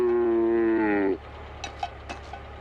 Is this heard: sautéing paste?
no